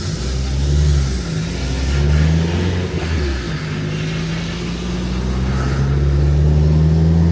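A Fiat Punto GT Turbo drives along, its engine revving up and easing off in several rising and falling pulls, loud and close from inside the car, with no talk.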